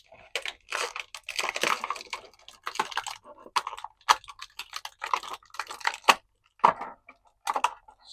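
Stratos action figure from Masters of the Universe Origins being pulled free of its stupid plastic packaging tabs, with a string of sharp, irregular plastic clicks and snaps close up, no talking.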